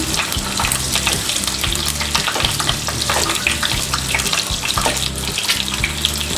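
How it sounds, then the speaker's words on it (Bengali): Eggs frying in hot oil for a Bengali egg korma, giving a loud, steady, dense sizzle that runs unbroken throughout with no one speaking. "এবার এর মধ্যে আমি হালকা আগে ডিমগুলোকে ভেজে নেব"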